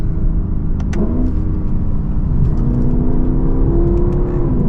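A Lexus LC500 with a V8 drives on a track, its engine humming at a steady, fairly loud drone with brief higher whirs and small shifts in pitch, recorded close and with no talking.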